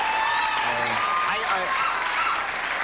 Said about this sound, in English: sure, you can applaud anything you like